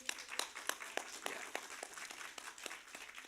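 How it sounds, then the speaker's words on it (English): Audience clapping at a university medical lecture, individual claps clearly separated in a fairly sparse rhythm, moderately quiet and somewhat distant. "Please give him a hand of applause"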